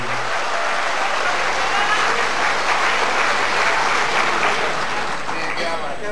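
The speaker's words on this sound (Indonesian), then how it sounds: "Kita berikan aplaus sekali lagi." Sustained audience applause fills a party congress hall, a dense, even wash of clapping that holds steady and loud throughout with no pauses.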